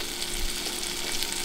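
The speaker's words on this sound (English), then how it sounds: "Oh, that's a good shot of sizzling." Food sizzles in a frying pan with olive oil, a close, steady crackle and hiss of frying with no voices.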